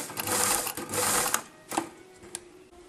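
Sewing machine stitching the collar of a kimono jacket runs in quick whirring bursts, stopping and starting with a brief reverse stitch, then a few small clicks as it halts; nearby and no voice.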